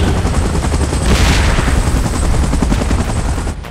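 Helicopter in PUBG Mobile during a giant-monster battle, with a loud, steady rotor drone and dense rumbling under continuous gunfire and explosions throughout.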